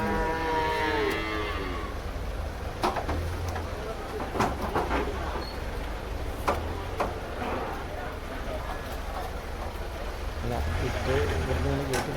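Cows moo at the Chattipparamba market in Kerala, with drawn-out lowing calls at the start and again near the end over steady crowd murmur and voices.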